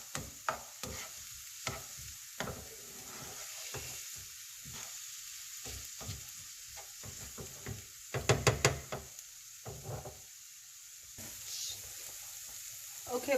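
Beef patty filling, likely onions, sizzling and frying in a pan, with repeated stirring clatters and knocks, a louder scraping burst midway, and brief talk over the steady hiss.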